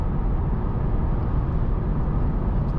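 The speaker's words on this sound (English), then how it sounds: "I can definitely hear a less tire noise from tires" Steady broadband road and tire roar inside a Mercedes-AMG A35 4MATIC cruising on a rough, noisy highway, a continuous low rumble with no talking.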